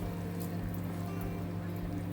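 Palmyra fruit pulp being poured into a boiling mixture for a traditional pudding, a steady liquid pour over a continuous low bubbling hum, with no talk.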